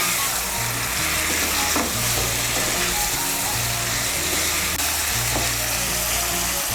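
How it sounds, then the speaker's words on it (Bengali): Fried cauliflower stirred into spice masala in a pan for a cauliflower dalna, with a steady loud sizzle and frying hiss and repeated scraping, knocking strokes of a spatula against the pan, no talking. "এখন আমি এর মধ্যে দিয়ে দেবো ভেজে রাখা ফুলকপিটা। ফুলকপিটাকে মিশিয়ে নেব মশলার সঙ্গে ভালো করে।"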